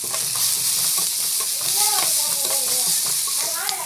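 Spices with asafoetida and salt sautéing in a pan, a loud continuous sizzle and hiss with stirring scrapes, close to the microphone and steady throughout.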